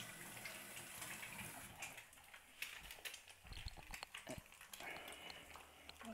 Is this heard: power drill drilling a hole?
no